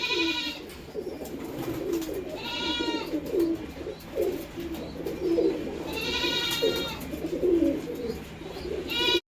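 A flock of pigeons coos in overlapping throaty rolls while pecking at soaked wheat, close and fairly loud, with bursts of flapping or scuffling between calls.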